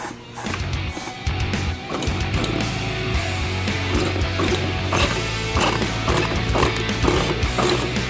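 A tire bead is levered onto a rim and rim locks are tightened, giving dense clattering, ratcheting metal clicks and tool knocks in a busy rhythm at close range, continuous throughout.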